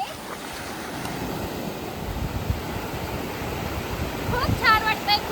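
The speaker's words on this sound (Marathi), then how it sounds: "आत्ता वाजलेत संध्याकाळचे 6:30 आणि आम्ही इकडे बघा देवबागच्या समुद्र किनाऱ्यावरती आहे" Waves wash steadily onto Devbag beach on the Konkan seashore in the evening, a broad continuous roar of surf with some wind buffeting the microphone and faint voices in the background.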